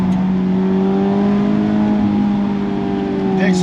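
A 2019 Mazda Miata with an aftermarket exhaust held at higher revs gives a steady, close droning engine note with strong harmonics that barely changes pitch throughout.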